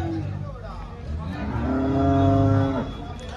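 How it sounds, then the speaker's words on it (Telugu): Cows moo at a cattle market in Pileru: one long, loud, close moo swells in the middle, over crowd babble and nearby talk. "చూడొచ్చు చాలా ఆవులు అయితే ఉన్నాయి"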